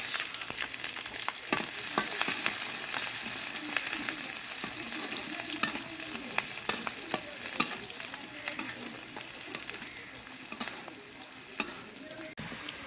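Garlic paste sizzles steadily in a hot pan after dried chillies, with continuous frying hiss and frequent scraping stir strokes, close and even throughout.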